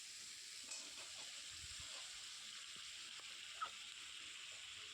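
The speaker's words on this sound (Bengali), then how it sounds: "পেঁয়াজটা হালকা করে ভেজে নিয়ে তার মধ্যেই কেটে রাখা সবজিগুলো দিয়ে দেব।" Onion, pumpkin, Malabar spinach and potatoes fry in a pan with a soft, even sizzle and hiss that stays constant and fairly quiet, broken only by an occasional small clink, with no talk.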